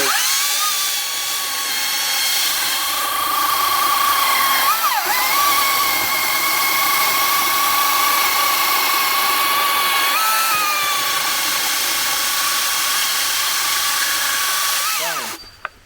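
A 40-volt battery top-handle chainsaw cuts through a log, its motor whining loud and steady for about fifteen seconds with brief pitch dips as the chain bites, then spinning down at the end.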